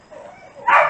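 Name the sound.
pack of dogs barking out of jealousy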